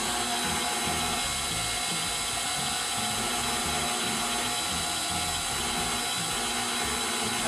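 Electric mixer running on low speed through fruit cake batter with eggs, a steady continuous motor whir with a faint rattling mechanical texture, no talking.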